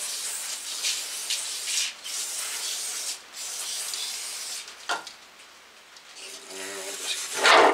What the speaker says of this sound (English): In there again with brake clean.